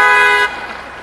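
A car horn blares loud and steady with a bright harmonic tone for about half a second, then cuts off, leaving quieter outdoor background at a snowy nighttime red dress vigil for missing and murdered women.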